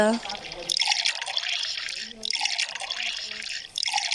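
Water splashes and runs from a tap in bursts, pouring into a vessel with short pauses in between, up close.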